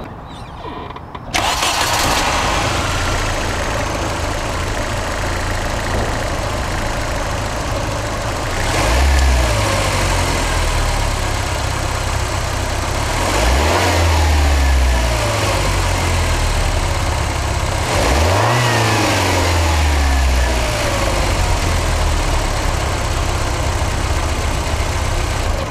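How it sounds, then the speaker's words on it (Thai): A Volkswagen Vento (A3) engine starts and settles into a steady idle, then revs up three times in a row, each rise and fall clearly audible nearby. "มาฟังเสียงเครื่องยนต์กัน"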